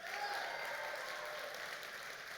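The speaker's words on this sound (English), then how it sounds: "So, round of applause." Brief burst of audience applause at a talk in an ideas series, a dense steady clapping that holds for a couple of seconds.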